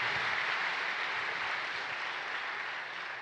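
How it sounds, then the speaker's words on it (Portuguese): A church congregation gives Pastor Cláudio Duarte a loud, sustained round of applause, a dense, even wash of many hands clapping at once that fades slightly toward the end, with no voices over it. "Vamos recebê-lo com uma forte salva de palmas para a glória de Jesus."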